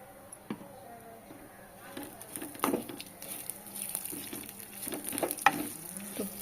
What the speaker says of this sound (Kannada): ಅದಕ್ಕೋಸ್ಕರ ತುಪ್ಪ ಹಾಕಿ ಹುರಿತಿದ್ದೀನಿ